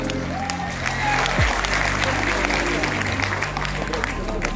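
An audience in a hall applauds to welcome everyone to a lifestyle celebration program, a dense, sustained clapping that rises slightly and holds, with murmuring voices under a steady low hum.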